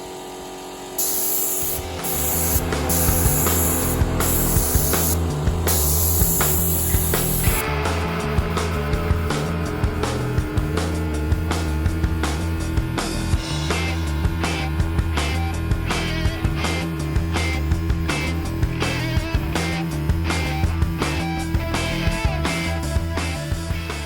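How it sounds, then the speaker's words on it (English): A compressor-driven spray gun repaints a car panel: a loud rushing hiss of sprayed paint in repeated bursts over the rhythmic thumping of a running air compressor nearby. "let's fire up the compressor and get this thing painted again."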